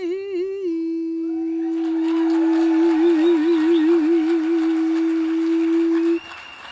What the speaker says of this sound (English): Can we give another round of applause for Linda?